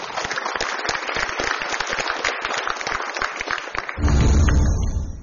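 Studio audience applauding on a televised motivational talk show, dense rapid clapping throughout, closing with a deep swell of music.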